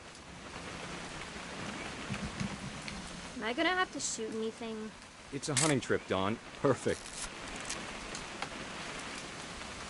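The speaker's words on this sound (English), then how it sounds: "It's gonna rain the whole weekend, isn't it?" Steady rain falls in What Remains of Edith Finch, a constant soft hiss that stays under two characters talking back and forth.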